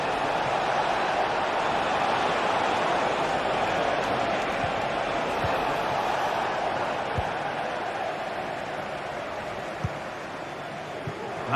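Stadium crowd in a football video game, a dense and steady roar of cheering and noise that holds at an even, fairly loud level, with faint clicks and a commentator's voice underneath.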